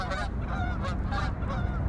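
A flock of geese flying in during spring honks in repeated loud calls from fairly close, the overlapping honks spread over two seconds above a constant outdoor rumble.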